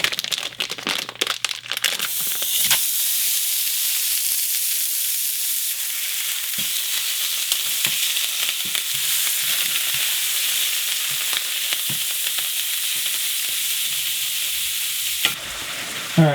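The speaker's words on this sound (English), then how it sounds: "So my pan's nice and hot now. I'm going to add my meat." Ground meat hitting a hot pan for a marinara meat sauce, a loud, continuous sizzle right up close with scattered scraping and stirring clicks through it, and no talking.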